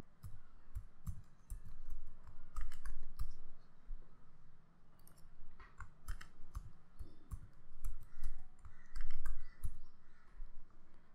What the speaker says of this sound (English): now you can type in the new password